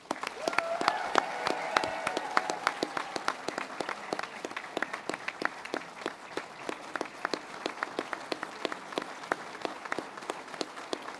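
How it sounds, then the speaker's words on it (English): Scattered audience applause for graduates at a warrant officer training school graduation ceremony, fairly quiet and spacious, with individual sharp claps standing out from a softer wash of hands throughout. "please join me in another round of applause for our graduates."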